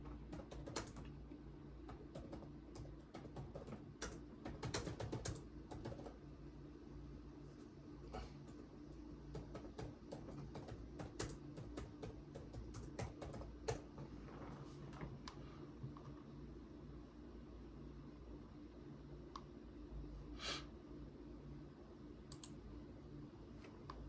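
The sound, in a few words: typing on a computer keyboard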